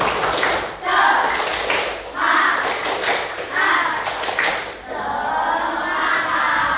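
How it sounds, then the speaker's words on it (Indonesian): A class performs a 'tepuk semangat' clapping cheer, hands striking in rhythmic grouped bursts with pauses between, while voices chant along and a sustained shout closes the sequence. "Ulangin, tepuk semangat."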